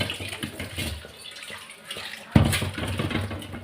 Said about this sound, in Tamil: வேக வச்ச தண்ணி இருக்கும் பார்த்தீங்களா, அதை கீழே ஊற்றிடலாம்